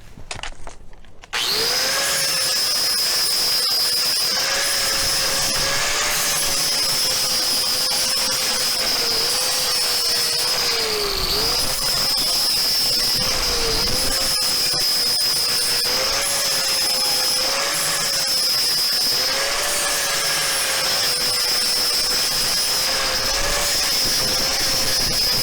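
Angle grinder removing weld from metal in a shop, a loud sustained high whine that holds steady for over twenty seconds after a sudden start, close by.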